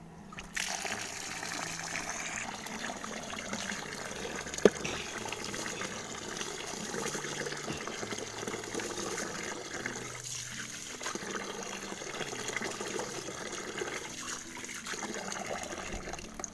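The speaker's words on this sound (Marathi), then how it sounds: "तांदूळ धुवून घेते पटकन आणि ते पाणी काढून ठेवते टबमध्ये" Water splashes and trickles continuously close by, with swishing and pouring as rice is washed and the water poured into a tub, steady and without any talking.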